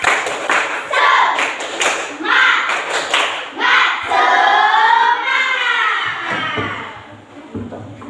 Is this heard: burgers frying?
no